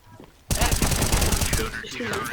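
Automatic gunfire in the video game CS:GO bursts in loudly after a quiet lead-in, a dense rattling volley that runs to the end with voices talking over it.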